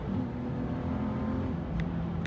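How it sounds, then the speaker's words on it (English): A stock Nissan 370Z pushed hard around the Sydney Motorsport Park race track, its engine note droning loud and steady from close by, a continuous revving hum with no talk over it. "pushing the car harder"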